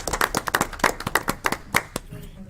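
Brief, scattered applause from a small group at a town council meeting, a few seconds of sharp, uneven claps that fade out quickly.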